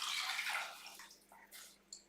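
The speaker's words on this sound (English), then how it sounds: "I'm going to put some water in my tin because I want to get all that tomato." Water is poured into an emptied tomato tin in a home kitchen, a short splashing gurgle that trails off into a few faint drips and clinks, heard close and alone.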